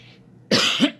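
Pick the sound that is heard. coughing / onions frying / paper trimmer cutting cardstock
coughing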